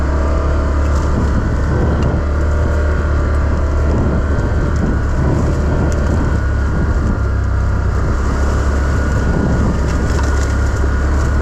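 A 2025 Can-Am Outlander 1000 XMR ATV on its stock exhaust drones steadily and loudly at close range, a constant deep engine rumble with gritty mechanical texture and no pauses, ridden on a backcountry trail.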